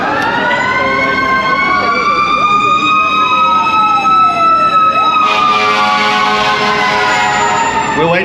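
Fire truck sirens wail past during a Hollywood Walk of Fame star ceremony, loud and close, the rising-and-falling tones sliding downward as the trucks go by, then a second siren pattern taking over.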